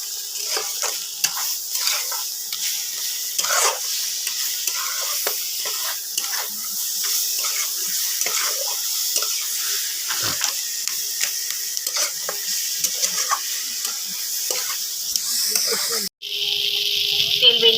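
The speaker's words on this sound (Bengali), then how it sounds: "বন্ধুরা মাছের মাথাটা ভেজে রেখে দিয়েছিলাম এবার বন্ধুরা একসাথে কষিয়ে নেবো" Fried fish head with spices being sautéed in a pan, a steady bright sizzle running throughout with scattered scraping stir strokes, close and fairly loud, cutting off briefly near the end before resuming.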